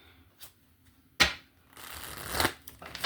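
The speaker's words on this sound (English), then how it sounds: "One more shuffle." Tarot cards being shuffled by hand: a brief riffle and a loud burst near the start, then a sustained papery shuffle building to a peak, close and alone.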